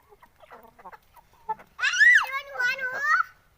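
A gamecock clucks and squawks loudly after a few faint clicks and rustles, a shrill, wavering call close by.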